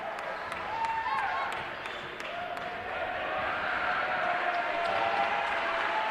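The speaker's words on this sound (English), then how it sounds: "A lot of crowd noise on Harrison's side" Broad, continuous crowd roar from basketball fans in a high school gym during a Western Boone vs Harrison boys varsity game, with faint squeaks and shoe sounds over the steady murmur.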